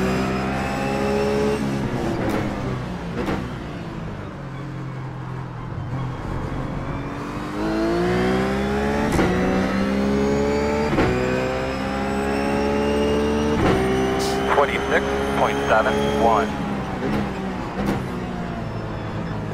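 Race car engine from a BMW in the iRacing sim, loud and close, revving up and down through gear changes with rising and falling harmonic sweeps for the whole stretch.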